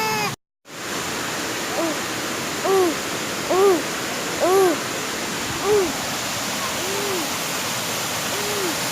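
Waterfalls of Bucay roar as a constant, dense wash of falling water, while a few hooting, owl-like calls rise faintly above the rushing noise.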